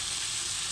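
Ground ginger paste fries with tomatoes in a pan as it is stirred, giving a brief, steady close-up sizzle.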